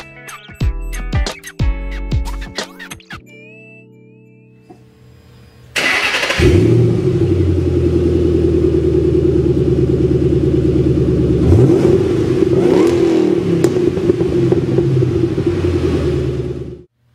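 A Ford Mustang Roush 427R's 3-valve 4.6 liter V8 fires up after a few electronic chimes, settling into a loud, deep rumbling idle with a brief rev midway, running alone without talk.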